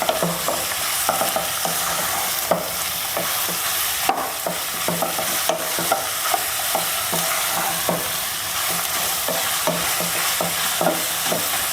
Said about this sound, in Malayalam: ചിക്കൻ നന്നായിട്ടൊന്ന് മിക്സ് ചെയ്യുക. ഈ സവാള, ഇഞ്ചി, പച്ചമുളകും വെളുത്തുള്ളി എല്ലാം കൂടി ആയിട്ട് നന്നായിട്ട് മിക്സ് ചെയ്ത് കൊടുക്കാം.